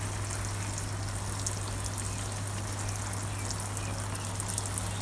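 Water pours steadily to soak sugarcane growing in a container, a continuous close wash of splashing and trickling with a constant low hum underneath and no pauses.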